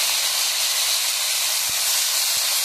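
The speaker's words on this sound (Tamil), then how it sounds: "தக்காளி கொஞ்சம் வதங்கட்டும்." Tomato sautéing in a pan gives off a loud, continuous hiss with no break, plus a couple of soft low knocks, and no voices.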